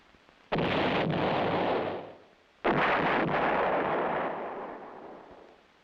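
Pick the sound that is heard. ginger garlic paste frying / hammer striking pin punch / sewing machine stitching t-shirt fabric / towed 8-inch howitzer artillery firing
towed 8-inch howitzer artillery firing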